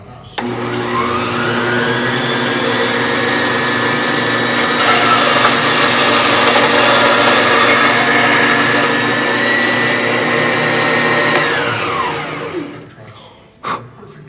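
A power tool cuts open the fuel filter housing of a CGS Hawk aircraft, a loud steady whine spinning up and holding for about twelve seconds before winding down, followed by a brief knock, close to the microphone.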